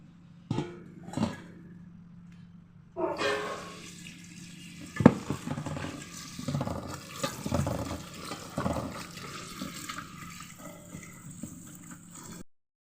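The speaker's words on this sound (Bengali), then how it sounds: "এখন পাতাগুলোকে ধুয়ে নেব।" Leafy greens are rinsed under running water, with intermittent splashing and gushing bursts, rustling and handling noises, and pauses between them, fairly close and moderately loud before stopping abruptly.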